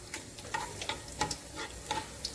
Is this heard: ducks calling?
no